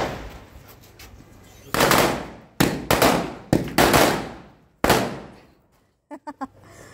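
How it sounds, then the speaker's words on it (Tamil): Several loud Diwali firecracker bursts crackle in quick clusters, sharp broadband pops over a low hiss, ending with a few smaller snaps. "பட்டாசு வெடிக்கும், நீ பயப்படாத"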